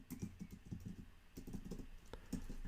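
Code is typed on a computer keyboard in quick, soft clicking bursts with brief pauses, close and quiet, with no talking.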